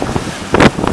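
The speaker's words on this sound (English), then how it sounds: "It's getting very gusty, that's the problem." Strong gusty wind buffets the microphone aboard a 35-foot Wharram catamaran with a centerboard, a loud roaring rumble that swells in two surges.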